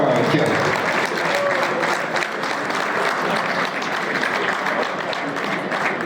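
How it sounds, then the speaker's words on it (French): Loud, sustained applause from an awards ceremony crowd, even and continuous for around six seconds with no break. "On les applaudit bien fort, s'il vous plaît"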